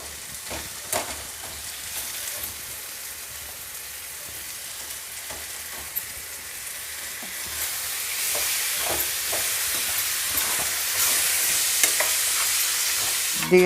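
Chicken pieces added to a hot pan for chickpea chicken curry, a steady sizzle and frying hiss that grows louder and brighter, with occasional clinks of stirring.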